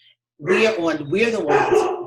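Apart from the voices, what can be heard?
dog barking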